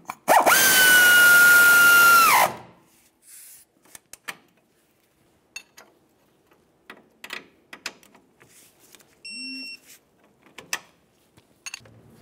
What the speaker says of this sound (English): Start on the mounting nut there. Now let's snug this up and torque it to 30 foot-pounds.